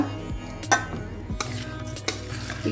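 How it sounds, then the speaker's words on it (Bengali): Pulao being tempered with ghee and garam masala in a pan: a metal spoon clinks and scrapes against the pan in irregular strokes, close by, with only a faint sizzle underneath. "এখানে পোলাও সম্বরা দিচ্ছি ঘি দিয়ে গরম মশলা দিয়ে পোলাও সম্বরা দেবো"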